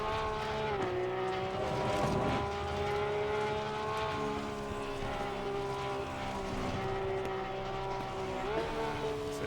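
In Assetto Corsa Competizione, a Porsche 911 GT3 R race car at Snetterton makes a loud, steady engine drone with a rising pitch, audible gear changes, and a downshift near the end.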